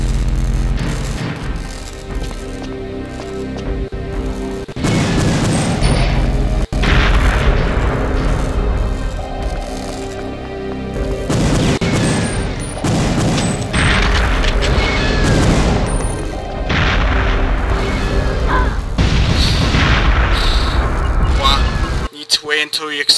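Repeated explosions and booming gunfire in the shooter game Perfect Dark, loud and dense for most of the stretch with heavy blasts rolling in waves, while a voice talks over the action.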